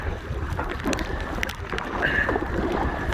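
A strong headwind blows across choppy water on Loch Lomond during a paddle in an Aqua Marina Steam 412 inflatable kayak, giving steady wind roar and buffeting with water splashing close by.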